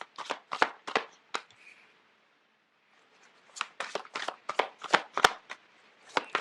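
A deck of tarot cards is shuffled in quick riffling bursts, a cluster of sharp, close flutters, a pause of silence, then another run of brisk shuffles.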